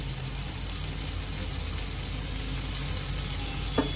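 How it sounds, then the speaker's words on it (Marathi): Chopped tomatoes with a little salt fry in a pan for a stale-chapati churma dish, giving a steady, even sizzle throughout with a single small clink near the end. "आता यात मी टमाटे घालून घेते।"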